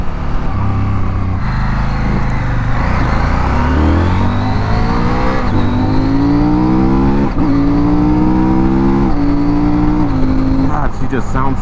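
A CFMOTO 800 twin-cylinder motorcycle engine revs hard and climbs through gears, loud and close, with rising pitch sweeps broken by quick-shifter changes.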